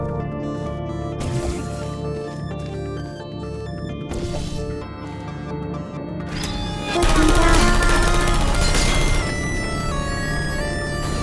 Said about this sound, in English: This next test involves turrets. You remember them, right? They're the pale spherical things that are full of bullets.